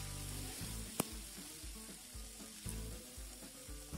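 Peas frying with hing, red chilli and garam masala for dal baati, a low steady sizzle close by with a few soft stirring scrapes and one sharp clink, no talking.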